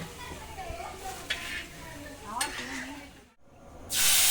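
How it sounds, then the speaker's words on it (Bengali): Whole garam masala spices crackle and sizzle in hot oil in a kadai, a steady close frying hiss with brief stirring clinks and a louder sizzling burst at the end, with a voice talking over it. "কড়াইতে আমি কিছুটা গরম মশলা ফোড়ন দিয়ে দিয়ে দিলাম আদা ও জিরের পেস্ট"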